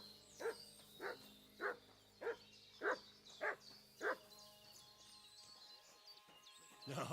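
A dog in a video game, Kingdom Come: Deliverance 2, barks seven times in a steady rhythm, fairly close, then falls quiet over a faint background hum.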